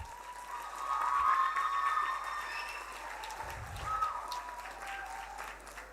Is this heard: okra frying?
no